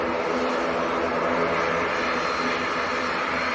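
A Ryanair jet departs Manchester Airport bound for Dublin, giving a steady, broad engine roar that holds at an even level throughout without fading.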